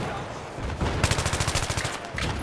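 A fast-firing gun in Battlefield 3 lets off a rapid automatic burst of about a dozen evenly spaced loud shots, close by, with game noise around it.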